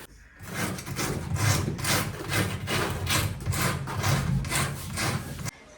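Wood is sanded by hand during a bathroom renovation, with a close, steady back-and-forth rasping in even strokes for several seconds before it stops abruptly.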